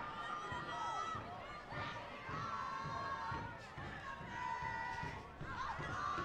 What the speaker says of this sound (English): I won't start singing along with the crowd with the chants.